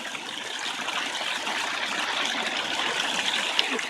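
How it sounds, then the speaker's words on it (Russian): Water splashes steadily in a row of street fountains along a city street in Vladivostok, a constant, even hiss of falling water, moderately loud and with no voices over it. "Вот такая галерея фонтанов."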